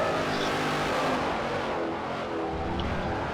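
A V8 Supercar in Forza Motorsport 4 roars past on turn 1, its loud engine note rising and falling steadily across the whole stretch with no voices over it.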